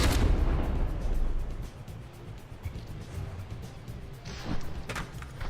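Warship guns firing in the naval combat game From The Depths, a heavy booming blast at the start that rolls off, followed by a few fainter distant impacts and bursts.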